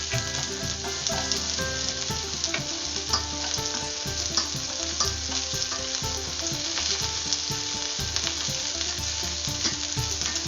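Onion frying in a pan for Filipino fish adobo, a steady close sizzle with crackles and occasional stirring scrapes, heard alone without any talk.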